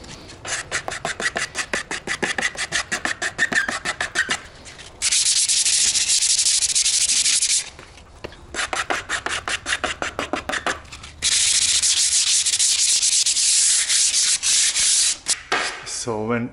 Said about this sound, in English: So when sanding any surfaces, guys, I change paper regularly